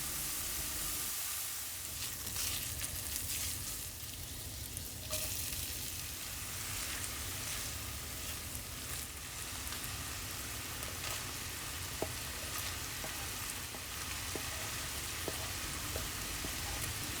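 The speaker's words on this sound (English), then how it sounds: "I'm gonna put bacon first on a preheated pan to have the fat rendered" Bacon sizzles and crackles steadily in a preheated pan as its fat renders, a dense, even frying hiss that runs throughout with occasional small pops and no talking.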